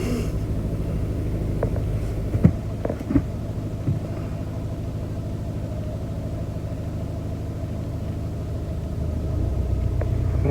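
A car pulls away slowly as the driver presses the gas, a low steady engine rumble heard from inside the cabin with a few small knocks and no talk.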